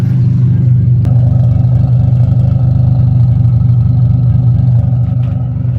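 Turbocharged Nissan Maxima engine idling with a misfire, a rough, uneven low rumble and occasional stumbles, loud and close, with a sharp click early on.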